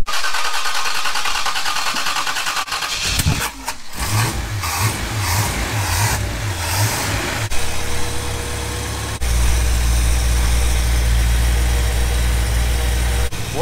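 A 1976 Pontiac Trans Am V8 cranks in rhythmic bursts, catches and fires, then settles into a loud, deep, steady idle close by with a brief rev and no talking.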